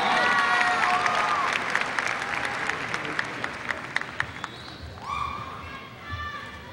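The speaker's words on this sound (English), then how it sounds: "Let's give our top scholars a round of applause." Audience at a high school graduation ceremony applauds the top scholars with loud, dense clapping and some cheering. The clapping thins into scattered claps, and voices and whistles rise briefly near the end.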